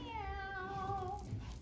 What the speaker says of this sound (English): What says meow?